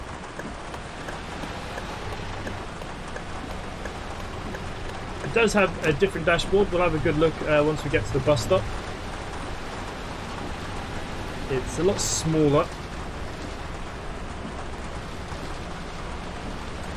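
Steady rain hisses at night in the Bus Driving Sim 22 video game, set on a Berlin city map. The patter runs low under the whole stretch while someone talks over it partway through.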